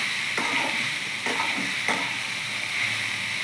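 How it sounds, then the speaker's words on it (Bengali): Olives for a tangy olive pickle stirred in a hot wok over low gas, with a steady sizzle and three distinct scraping strokes of a spoon, close up and with no talk. "জলপাইগুলো এবার ঢেলে দিচ্ছে এর মধ্যে, দিয়ে খুব সুন্দর করে নাড়াচাড়া করে নেবো"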